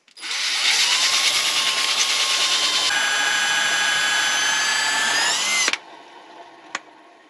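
Rusty pulley off a 1953 Kenworth bus spun like a lathe to strip the rust, a steady, loud, high whirring grind for several seconds that stops abruptly, followed by a single faint tap.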